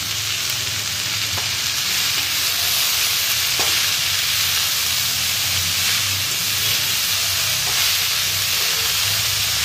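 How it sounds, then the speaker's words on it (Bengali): Red amaranth greens fry in a pan with a steady, loud sizzle and hiss throughout, while a utensil stirs them with faint scraping taps and no talk. "লাল শাকটা তো এখন ভালো করে নেড়ে চেড়ে নিচ্ছি।"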